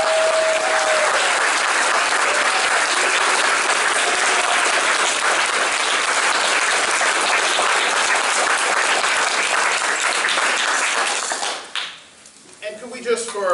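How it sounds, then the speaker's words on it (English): Loud, sustained applause from a large audience fills the room, then fades out abruptly near the end. "We give Mrs. Young, Mr. Hayward, and Joshua another round of applause."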